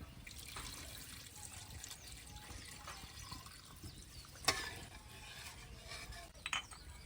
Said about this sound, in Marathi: आता मी हे गरम केलेलं पाणी टाकून देते